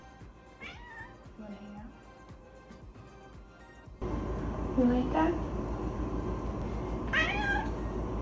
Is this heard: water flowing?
no